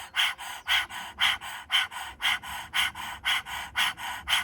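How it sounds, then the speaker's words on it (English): Rapid rhythmic breath of fire pranayama through the throat with the tongue stretched out during a kundalini yoga breathwork round, a steady run of about sixteen sharp, evenly spaced huffs, close and loud, with no talking. "Stretch the tongue out, start breathing in and out through the back of your throat."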